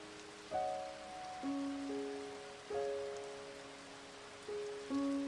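Steady rain hiss patters beneath soft sustained musical notes that rise and fall slowly, with no voices.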